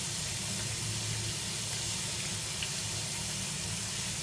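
Cold water runs steadily from a kitchen tap plumbed to an Electrolux AQ16N gas water heater, a constant hissing splash that stays even throughout with no voices.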